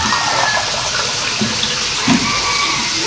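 Mineral water poured from a gallon jug into a cooking pot, a loud close continuous stream with a brief heavier glug near the end and no talking.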